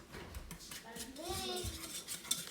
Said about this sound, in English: you do this, you mix it until it doesn't have that floury taste to it